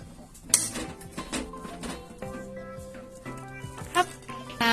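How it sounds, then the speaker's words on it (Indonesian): A closed Happy Call pan flipped over while baking a banana cake without an oven, giving a few sharp metallic clanks and knocks of cookware among quieter kitchen handling sounds. "karena aku pakai happy coil, ini tinggal ditutup dan dibalik aja"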